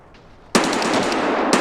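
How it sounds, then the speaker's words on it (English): Sustained automatic gunfire from an enemy's gun in the Escape from Tarkov video game, bursting in suddenly after a quiet moment and hammering on loudly and close, with a fresh burst starting at the end. "His gun sounds much scarier than mine."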